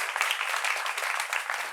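Applause from a studio audience at a French-language talk show, a steady dense patter of many hands clapping at moderate volume throughout, with no voices over it.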